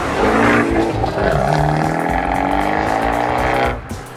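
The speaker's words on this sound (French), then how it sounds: "L'échappement Record Monza émet un son rock tout sauf discret." A loud Abarth 124 Spider's 1.4-litre turbo engine roars steadily through a Record Monza sport exhaust with a rumbling, throaty note, revving and holding high before dropping off near the end.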